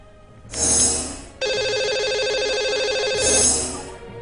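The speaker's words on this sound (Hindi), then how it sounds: "तो चलिए इन्हें लगाते हैं कॉल" A telephone ringback tone as a call is placed to a lucky caller on a Hindi TV phone-in show: a bright, sustained electronic warble, alone with no talk, starting strongly and holding steady for several seconds.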